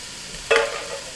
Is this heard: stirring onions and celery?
yes